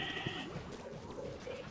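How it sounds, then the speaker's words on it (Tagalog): A goat bleats faintly in the background, a short wavering call under a low murmur of room noise. "Maririnig niyo ba yung kambing sa likod?"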